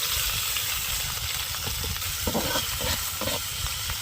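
Prawns fry with onions in hot oil for a bottle gourd curry, giving a continuous sizzling hiss broken by a run of scraping, rattling stirs near the end; no voices.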